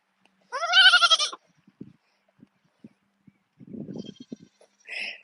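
A baby goat on a garden homestead lets out a loud, wavering bleat close by, followed by soft scuffs and small noises, then a second shorter cry at the end.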